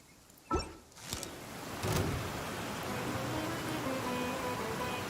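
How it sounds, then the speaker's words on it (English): Steady downpour of rain in the Genshin Impact video game, a dense continuous hiss that builds after a couple of sharp knocks near the start and holds evenly to the end, with no talking. "taking a stroll in the middle of a downpour certainly rouses the spirit"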